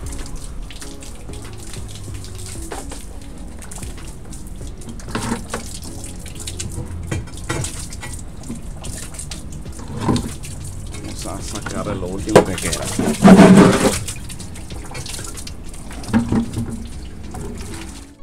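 Tap water runs steadily while a Tuxedo Blue koi tank is cleaned, a continuous moderate flow with occasional splashes, clunks and a brief louder knock, under someone speaking Spanish.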